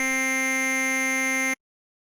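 A u-he Diva synth oscillator holds a bright, buzzy sustained tone rich in harmonics, steady and loud, then cuts off abruptly into silence.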